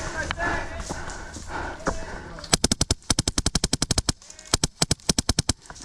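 Airsoft guns fire in fast volleys of sharp, close cracks during an outdoor skirmish, with several rapid bursts and single shots following quieter shouting and talk.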